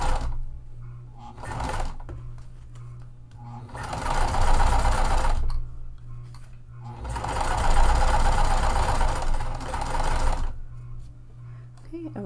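A sewing machine top stitches a mesh tote bag in two long runs of steady whirring, each lasting a few seconds, with a voice talking quietly in the pauses between them.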